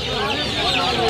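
Chickens clucking at a busy poultry pet market that also sells turkeys, guinea fowl and ducks, a short close burst of fowl calls over steady market noise.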